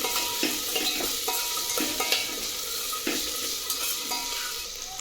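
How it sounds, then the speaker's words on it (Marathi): Vegetables, garlic, potato, tomato, cauliflower and chickpeas stirred in a hot pan, a close steady sizzle punctuated by intermittent spatula scrapes and knocks against the metal, with no talking. "आता हे व्यवस्थित मिक्स करून घेऊ आपण।"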